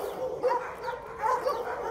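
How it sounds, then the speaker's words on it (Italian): Dogs at an Italian dog shelter bark and whimper in a hot, humid yard, with several overlapping yips and barks at moderate distance. "Luca told us that Cani Sciolti is different from the average dog shelter in Italy."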